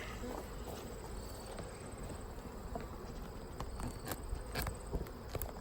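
Honey bees hum and buzz inside an open hive brood chamber in late September, a steady dense drone with occasional louder individual passes close by.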